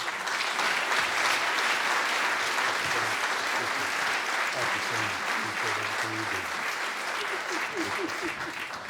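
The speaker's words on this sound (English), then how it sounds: "Let's give them another round of applause" An audience at an annual meeting and legacy celebration applauds steadily in a dense, sustained round of clapping that fades slightly toward the end, with a voice talking over it.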